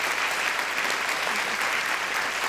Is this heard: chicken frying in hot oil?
no